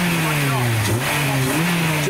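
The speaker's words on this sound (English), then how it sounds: "Jack is literally revving his car for a police officer." A modified Honda Jazz with a Type R interior and EP3 seats revs its engine at a UK car meet, a close, loud droning note that dips and rises, with people talking over it.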